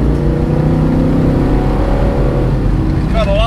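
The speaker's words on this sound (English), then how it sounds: "Gotta love that sound. Good old fashioned carbureted, naturally aspirated V8, baby." A 1970 Ford Mustang Mach 1 with a carbureted, naturally aspirated V8 roars loudly and close up in a sustained, throaty drone, and a voice breaks in briefly near the end.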